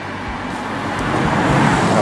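A 2014 BMW i8 hybrid sports car driving, heard as a steady road and engine hum with broadband rushing noise that swells gradually louder toward the end.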